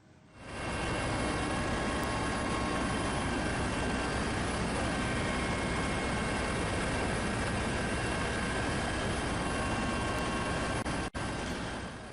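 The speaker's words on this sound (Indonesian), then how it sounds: "helikopter Basarnas menyisir perairan Selat Bali" A Basarnas search-and-rescue helicopter flies over the waters of the Bali Strait during a search for a sunken ferry, its steady broadband rotor and engine roar held loud and continuous throughout with no speech.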